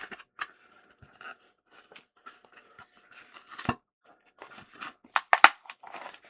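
Plastic screen protector packaging sealed with Scotch tape being pried and torn open by hand, a string of sharp crinkles, rips and snaps in irregular bursts, close and fairly loud against near silence.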